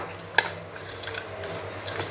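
A spoon stirs roasted, coarsely ground peanuts into sabudana khichdi in a pan, giving soft scraping and rubbing with one sharp clink near the start.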